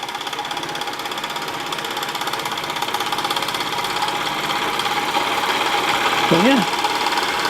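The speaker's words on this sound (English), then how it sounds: "Runs quite quietly." A Mr Power model steam engine fitted with a Wilesco safety valve runs steadily with a close, even, rapid mechanical chugging and hum, loud and constant throughout, with a brief vocal sound near the end.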